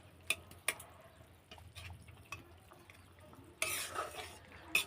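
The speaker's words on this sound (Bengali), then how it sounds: "এই কামড়াগুলো একটু হালকা ঘেঁটে দিতে হবে" Light stirring of carambola (kamranga) pieces in a salted fish curry in a pot, with a few soft utensil clinks and scrapes, then a brief louder wet rustle near the end; quiet and close, no talk.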